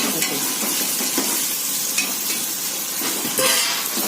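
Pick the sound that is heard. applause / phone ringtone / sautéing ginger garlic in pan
sautéing ginger garlic in pan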